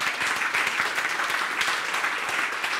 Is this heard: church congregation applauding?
yes